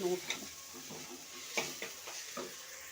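A spatula stirs chilli powder and spices through chowmein in a hot pan, with soft sizzling underneath and a few distinct scrapes and clinks against the pan at intervals, fairly quiet with no talking.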